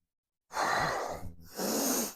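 Two strong, close breaths taken during a half-kneeling press exercise, each a loud airy rush lasting under a second with a brief gap between, no talking.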